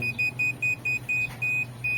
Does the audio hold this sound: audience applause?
no